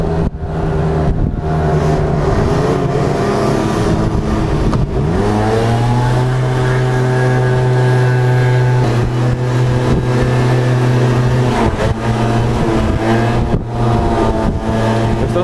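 A close motorbike engine drones and revs, pitch climbing and settling through several rises and falls, loud and continuous, on hill roads.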